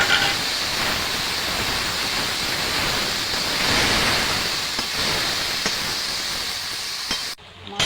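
Radhuni spices are tempered in hot oil for a spinach curry with puti fish, giving a steady, even hissing sizzle that carries on for several seconds before cutting off abruptly near the end.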